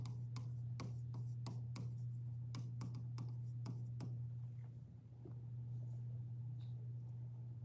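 Handwriting during a math lesson on ratios and proportions, heard as a quick run of scratchy pen or marker strokes over a steady low hum, fading into quieter movement with no clear talking.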